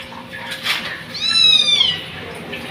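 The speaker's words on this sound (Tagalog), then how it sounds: "kuting." A kitten lets out one clear, high meow at close range amid household bustle during preparations for a 60th birthday party, with faint talk in the background.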